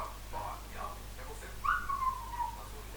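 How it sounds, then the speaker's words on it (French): A person whistles a short, faint rising-then-level tone partway through, preceded by quiet speech over a low background hum. "ça c'est siffler."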